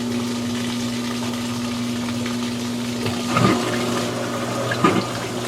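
GE washing machine drain pump cavitating, a steady low hum with gurgling, slurping water bursts twice near the end, moderately quiet and without speech.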